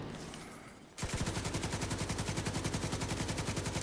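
Enemy gunfire in The Division 2, a sustained rapid automatic burst starting abruptly about a second in after a quieter stretch, loud and steady rhythmic rattling with no voices.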